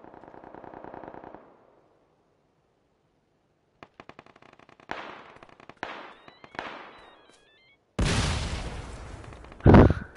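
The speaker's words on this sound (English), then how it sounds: "I think that's the sticky bomb that makes that noise." Gunfire and explosive blasts in the PUBG battle game: a rattling burst, then scattered sharp cracks and booms, ending in a loud sustained roar and a heavy final blast of a sticky bomb.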